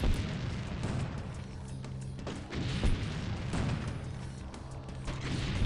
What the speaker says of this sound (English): Wish I knew exactly what this was I was shooting at